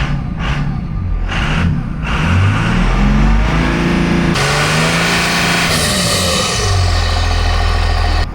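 A Cummins diesel-swapped Volkswagen bus engine running loud and close, a deep rumbling idle that revs up and settles, with a few knocks and a burst of hissing air partway through.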